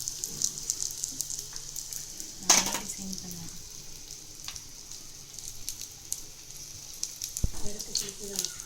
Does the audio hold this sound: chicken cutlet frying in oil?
yes